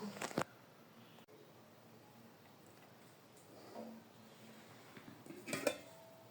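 Pots of cooked curry, including a spiny gourd malai curry and fish curries, are set down and covered, making a few quiet clinks and knocks of metal dishes at the start and end of an otherwise near-silent stretch.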